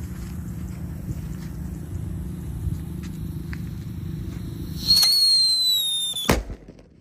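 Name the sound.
New Happy Flower firecracker being set off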